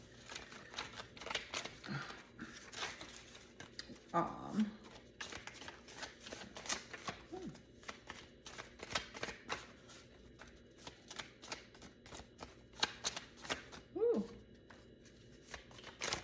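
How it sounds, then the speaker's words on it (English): Astrology cards are shuffled by hand in a run of quick riffling, flicking bursts with short pauses between them, close and fairly soft, while a person talks over them. "I'll go ahead and pull some astrological cards for this one as well."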